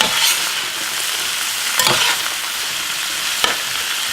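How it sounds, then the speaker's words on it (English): Cauliflower and olive oil fry in a pan while being stirred, giving a steady close sizzle broken by a few sharp scraping stirs, with no one talking. "we're going to kind of mix it up real well."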